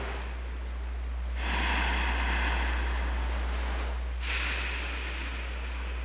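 Ocean surf rolls in with a breathy wind, one broad swell rising and falling near the middle and a second surge toward the end over a steady low rumble.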